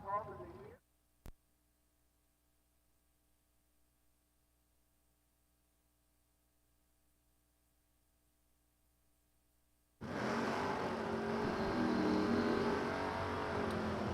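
Drag racing cars at Empire Dragway during a WDRA bracket racing event: a brief burst opens, then near silence until a loud, steady engine roar bursts in and holds for the final four seconds.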